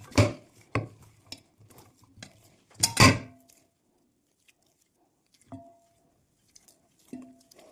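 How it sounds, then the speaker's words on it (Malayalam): Bread dough for chicken buns is kneaded by hand in a bowl, giving scattered squishy slaps and knocks against the bowl, clustered early and then sparse with long quiet gaps. "ഇതിപ്പോൾ ഞാൻ കൈ വെച്ചിട്ടൊന്ന് കുഴച്ചെടുക്കുന്നതാണ്"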